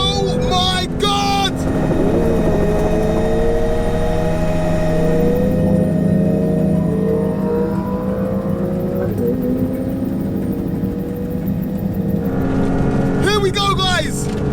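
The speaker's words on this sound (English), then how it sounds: "there's a helicopter next to me." A helicopter flies alongside a twin-turbo Porsche GT3 RS racing beside it, its steady rotor drone blending with the loud, continuous engine roar throughout while excited voices shout over the noise.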